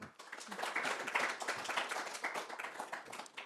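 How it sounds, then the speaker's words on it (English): Panellists at a space industry environmental talk receive a round of applause from the audience, steady clapping throughout at moderate volume. "please give the panellists a massive round of applause"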